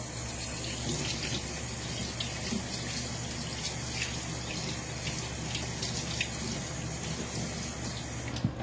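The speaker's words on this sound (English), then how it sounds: "let me rinse my hands" Tap water runs steadily as hands are rinsed at a kitchen sink while making ham and cheese buttermilk biscuits, a continuous close hiss with faint splashes and drips throughout.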